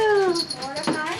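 A puppy whimpers in high, wavering whines that slide downward, close and fairly loud over roughly a second, with a bit of speech-like sound mixed in.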